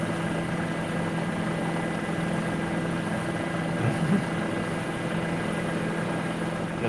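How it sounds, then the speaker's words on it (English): A news helicopter hovers overhead, a steady droning engine and rotor hum that stays constant and moderately loud without pauses. "we'll listen to the helicopter"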